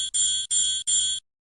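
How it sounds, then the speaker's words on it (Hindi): An electric bell inside an airtight glass jar rings in three quick bursts of bright, clear metallic tone, loud and close, with brief gaps between them, then stops abruptly. "जैसे ही विद्युत घंटी का परिपथ पूर्ण होता है, ध्वनि सुनाई पड़ती है।"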